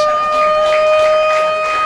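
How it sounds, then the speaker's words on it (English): Siren ending the quarter at a Northern Territory football match at Gardens Oval, a loud sustained steady tone held for the whole span. "Helicopter punt into a bit of space for Retland Roberts, and the siren goes."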